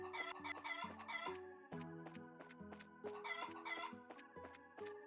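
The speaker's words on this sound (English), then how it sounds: "Chickens!" Chickens cluck and cackle close by in repeated bursts, with a rooster-like crowing call rising and falling throughout, loud and busy with no talk over it.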